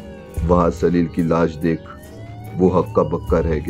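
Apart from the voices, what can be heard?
police car siren sound effect in a narrated horror story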